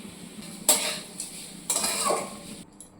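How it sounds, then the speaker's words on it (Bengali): A utensil scrapes and clinks against a wok while rice is stirred through melting sugar over a gas flame, a few soft metallic knocks and scrapes spread over a quiet background. "তারপর ভাত দিয়ে একটু নাড়াচাড়া করবো"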